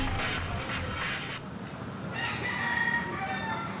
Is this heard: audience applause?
no